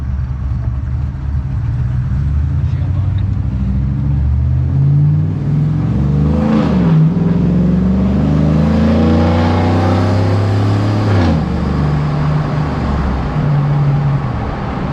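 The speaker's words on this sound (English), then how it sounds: "let's see what this muffler sounds like" A 6.0L swapped Silverado with a new Magnaflow muffler exhaust, carrying a header leak, idles with a deep rumble and then revs twice, its pitch sweeping up and falling back, loud and close.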